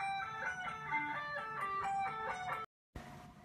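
An electric guitar plays a riff, a quick repeating run of bright picked notes, close and clear, cut short by a sudden brief silence before the sound returns.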